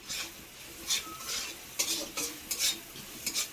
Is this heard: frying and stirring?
yes